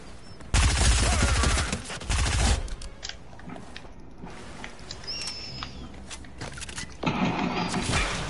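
SMG fire in a video game rattles out in a loud, fast burst of closely spaced shots, followed by quieter scattered game sounds and another short flurry near the end.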